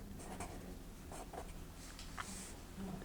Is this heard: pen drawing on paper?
yes